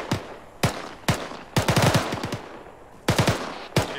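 Machine gun fire in ArmA 3 combat, loud sharp bursts: several single shots, then a rapid rattling string of rounds, a pause, and a short burst followed by a final shot.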